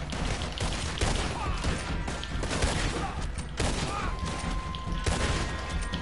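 Gunfire in the Red Dead Redemption 2 video game, with shots cracking repeatedly and irregularly through a continuous, loud mix of game sound and noise, close and busy from start to finish.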